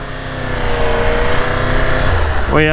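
A 2023 Triumph Tiger 1200 GT Explorer motorcycle engine hums loud and close in a steady ride, with a rising rev at the end.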